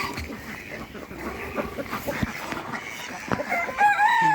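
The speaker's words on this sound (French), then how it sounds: "Donc toujours les poules pondeuses." Laying hens on a farm cluck steadily up close while a rooster crows, amid general barnyard bustle.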